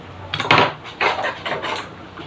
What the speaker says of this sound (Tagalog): haluin muna natin ang spaghetti bago natin kainin